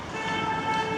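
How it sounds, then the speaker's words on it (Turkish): Car horns honk amid busy city traffic in Tirana, Albania, steady and fairly loud against a constant roadway din with no voices. "Kırmızı yanıyor, korna çalıyorlar hala mesela adama."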